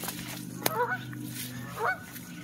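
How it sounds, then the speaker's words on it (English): Geese honk twice at a distance on Liberty Reservoir, brief nasal calls separated by a pause, over a low steady hum. "Got a few geese out in the pond there."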